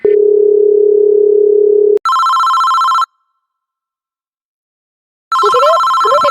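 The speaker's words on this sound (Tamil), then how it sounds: "ஃபோன்" A phone rings loudly with a long electronic buzz, then a short bright ringtone burst, a silent pause, and the ringtone starting again, close and clear with no talk.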